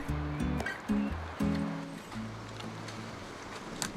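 The Étançons mountain stream flowing along the trail up from La Bérarde in the Écrins: a steady broadband rush of water, moderately distant, under background music with low sustained tones.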